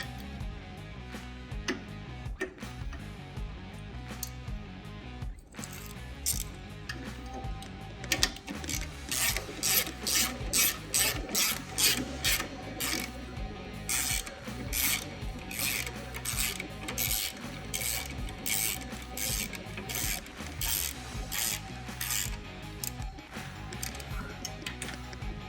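A ratchet tightens bolts on a FIXSTAND kickstand correction block for an M8 Softail motorcycle, giving a steady run of rapid, close-up clicking and scraping strokes over a continuous mechanical background.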